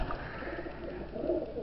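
Chinese Owl pigeons in a breeding loft coo softly and continuously, a low murmuring warble close by over a constant background hum.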